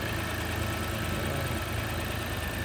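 2017 Mitsubishi Mirage small car engine idling steadily after a jump start, a constant low hum with a faint rhythmic pulse, heard continuously without talk.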